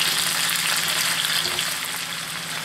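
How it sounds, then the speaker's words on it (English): Winter vegetables frying in bacon grease in a pan, a dense, steady sizzle and crackle heard up close with no talking. "I'm going to turn them to get the bacon grease"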